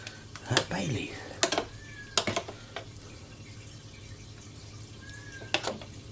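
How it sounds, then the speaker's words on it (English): A cat cries and meows in a kitchen during cooking, giving a few short, faint calls amid sharp clatters and running water. "sorry if you can hear that, that's the cat just crying."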